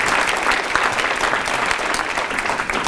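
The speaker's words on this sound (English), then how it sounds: "Round of applause for everybody here for being a part of that." An audience at a Harvest for Hunger recognition ceremony gives a steady round of applause, a dense crackle of many clapping hands that holds at an even level for about three seconds.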